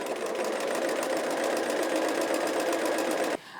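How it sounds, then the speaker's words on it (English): A sewing machine runs at a steady, fast, even stitching rhythm while piecing Dresden Plate quilt block pieces, loud and close, then stops abruptly near the end. "2 stitches on, 2 stitches back, and then stitch on down."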